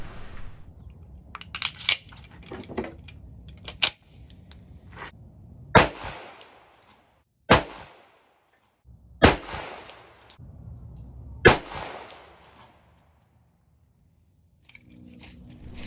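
A Colt 1911 .45 pistol fires single sharp shots at a 100-yard range, about six spaced irregularly over the stretch, each a crisp crack with a short outdoor tail, amid quiet background rustling.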